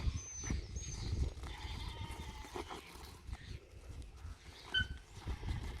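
Sheep bleating here and there over hoof scuffles and field ambience while a working sheepdog, Floss, holds a small flock in balance, with intermittent high calls or whistles rising above the steady outdoor bustle.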